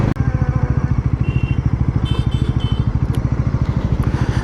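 Bajaj Pulsar NS 400Z naked street motorcycle engine idles close by with a steady, fast thumping beat, loud and even, alone without talk.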